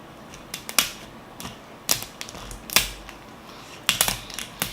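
A knife or shears cut into the shell of a raw lobster tail, producing sharp, crunchy cracks that come in small clusters with pauses between them, close and fairly loud.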